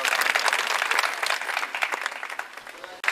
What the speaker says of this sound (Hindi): तालियों के साथ हम अतिथियों का स्वागत करेंगे।